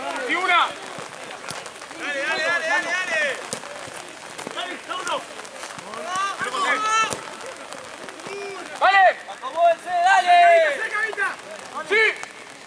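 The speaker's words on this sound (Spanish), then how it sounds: "Ya es lluvia, diluvio." Heavy rain pours down steadily at a Copa Mercosur football match while people talk loudly over the constant hiss of the downpour.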